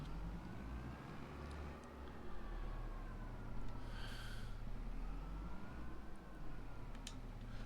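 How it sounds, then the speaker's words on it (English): A steady, low tractor engine drone in the Farming Simulator video game runs throughout with a faint rising whine, loud and continuous like idling and revving, no talking. "I like the sound of this tractor."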